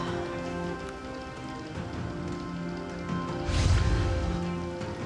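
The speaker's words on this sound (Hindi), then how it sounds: "चक्रवात मेघजॉम के कारण आंध्र प्रदेश और तमिलनाडु के कई हिस्सों में तेज बारिश" Heavy cyclone rain on the Andhra Pradesh and Tamil Nadu coast pours as a steady dense hiss, with a louder gusting surge midway and no voices.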